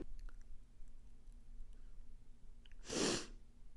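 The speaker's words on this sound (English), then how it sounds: "I have to sneeze." One sharp, close sneeze bursts out near the end after a quiet stretch with faint background hum.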